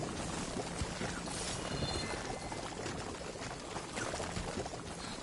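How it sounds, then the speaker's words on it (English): Steady bubbling, gurgling liquid from a Plowhorn machine in Horizon Forbidden West, a continuous wet churning that stays at an even level throughout with no talk. "I can hear lots of bubbling. I think it's the plough horn, isn't it? Because they were shooting a liquid out."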